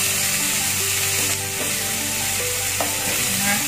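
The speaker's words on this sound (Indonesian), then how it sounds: "ini bumbunya saya tumis dulu" Spice paste for Soto Madura sizzles steadily as it is sautéed in a pan, with occasional stirring scrapes over a constant bright frying hiss, close and fairly loud, no one talking.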